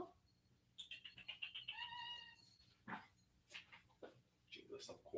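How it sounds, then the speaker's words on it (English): A cat locked somewhere in another room meows repeatedly, the calls faint and distant and rising in short pitched bursts, while a person talks in between. "I think my cat is like locked somewhere because she keeps meowing"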